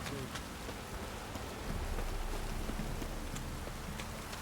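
Steady heavy rain in The Witcher 3 video game pours down in a continuous hiss, dense and even throughout, with no voices.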